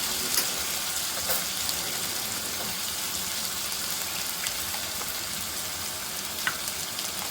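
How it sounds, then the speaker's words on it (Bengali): Potatoes fry in a pan for mochar ghonto with a steady, close sizzle of hot oil, crackling with small pops throughout and no talk. "আলুটাকে একটু ভালো করে লাল লাল করে ভেজে নেব"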